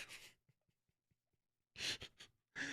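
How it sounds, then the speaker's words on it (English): Heavy breathing right into a microphone, a few loud rushing breaths in and out near the start and again toward the end, with faint clicks and small noises in the quiet stretch between. "minus all the heavy breathing into the mic"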